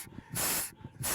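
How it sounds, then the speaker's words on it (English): Air pumped into a sealed altitude-sickness rescue bag on Kilimanjaro, two strong hissing gusts with a soft rumble between them, close and fairly quiet. "What you're hearing now is oxygen being pumped, or rather air being pumped into the bag."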